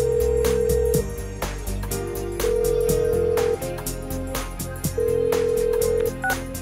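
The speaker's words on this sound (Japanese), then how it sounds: "じゃあちょっと待ってろ、もう一度電話してみるから。" Electronic phone-call dialing tones from the video game Persona 4 Golden sound in a series of steady beeps and short pulses, with a faint ring signal repeating under background music.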